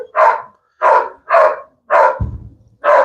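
A dog barks five times in a loud, close, evenly spaced series, with a brief low rumble partway through.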